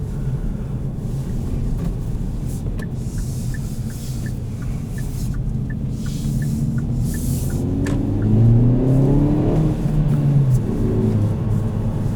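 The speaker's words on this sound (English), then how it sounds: "you can definitely hear the wastegate up front opening from the turbocharger and the great exhaust note out the back" A 2020 Kia Forte GT manual's turbocharged engine drones under wind noise, then revs up with a rising exhaust note and a series of faint chirps from the turbo wastegate opening.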